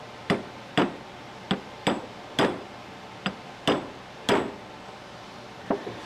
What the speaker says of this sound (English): Got a leg right under the bench right here so I can hammer on it.